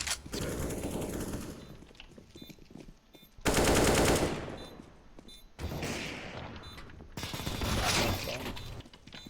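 Sustained bursts of Negev machine gun fire in a tactical shooter game, loud and dense, stopping and starting in several long volleys with brief gaps between them.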